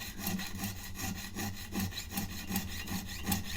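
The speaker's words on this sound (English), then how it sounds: "I'm going to kind of speed up my sawing just a little bit" A jeweler's saw cuts through a metal ring shank in steady, fast, short strokes, a close rhythmic rasping that repeats about every half second with no voices.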